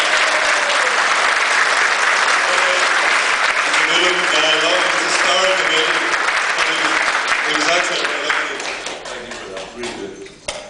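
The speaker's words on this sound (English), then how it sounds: "So give him a round of applause." A conference audience in a Dublin hotel breaks into sustained, dense applause that holds strong for several seconds before thinning out and fading toward the end.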